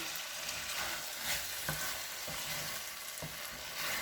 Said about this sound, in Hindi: इसमें अच्छी तरह इनको भून लेंगे मसाले के साथ।